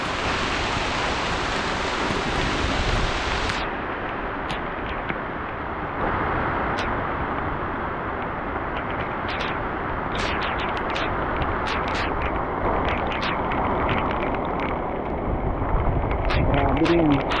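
Heavy rain pours down in the mountains on a farming area, a dense, loud, continuous hiss with scattered sharp drips and knocks, while people talk at times beneath it.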